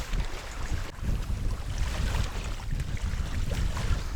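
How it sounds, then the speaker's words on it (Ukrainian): Gusty wind buffets the microphone in loud, rough bursts while feeder fishing, with water lapping faintly underneath and no voices. "Вітер розвернувся прямо в лице"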